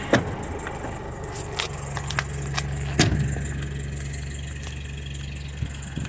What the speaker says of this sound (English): Bring it up to normal ride height.